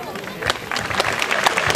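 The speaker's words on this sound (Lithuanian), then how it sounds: "nepagailėkime aplodismentų" An outdoor audience at a town festival in Molėtai claps in steady, dense applause, loud and close, with scattered sharper claps standing out over a faint murmur of voices.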